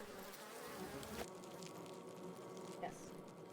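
Bees buzzing steadily in a wildlife documentary, a continuous insect drone heard close and fairly faint, with no speech over it.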